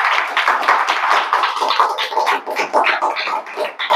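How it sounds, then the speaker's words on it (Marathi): An audience at a results and felicitation ceremony for a coaching class claps together, a loud, continuous patter of many hands that stays even for several seconds. "टाळ्या वाजवा."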